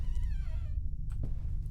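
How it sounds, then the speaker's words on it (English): A cat meows in the horror video game Layers of Fear, a single drawn-out wavering call over a steady low ambient drone, followed by a brief fainter sound. "Hi, kitty."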